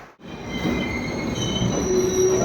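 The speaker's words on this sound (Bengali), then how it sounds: "প্রায় 1 ঘন্টা লেটে ট্রেন এসে পৌঁছেছে দিমাপুর স্টেশনে" A passenger train pulling into Dimapur station at night, its wheels giving a sustained, high metallic squeal over a steady rumble of rolling cars, loud and close, with no voices.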